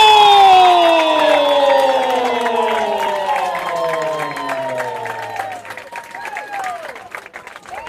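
Crowd at an NPSL Southeast soccer match roars and applauds after a Port City free kick goal, loud cheering and clapping swelling at first, then gradually fading, with a commentator's voice over it.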